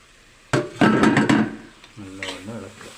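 Mashed potato being stirred into a masala dosa potato filling in a pan, giving a close, loud burst of scraping and stirring with a few knocks, then a softer tail with faint voice-like tones.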